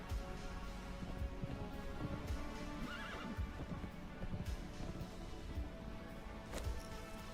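A horse in the Ashes of Creation video game whinnies once mid-clip amid rhythmic hoof clip-clops and a dense, noisy outdoor ambience, fairly quiet overall.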